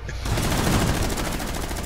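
Gunfire from a shotgun in Rainbow Six Siege, a dense, loud close-range barrage of rapid blasts filling the whole moment with heavy low-end thump.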